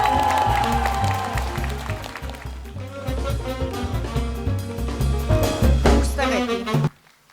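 Audience applause at a comedy league show welcoming a jury member, a steady wash of clapping running under loud, bass-heavy music until both cut off abruptly near the end.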